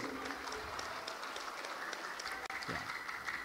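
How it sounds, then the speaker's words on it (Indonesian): Audience applause for the judges at a Qur'an knowledge quiz final of a national Quran recitation competition, a steady wash of clapping filling the hall throughout, with a short pause and some voice near the end. "tepuk tangan untuk Dewan Hakim"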